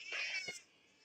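A cat meows in the Friday the 13th: Killer Puzzle video game, a short, faint, clear meow followed by quiet background hum.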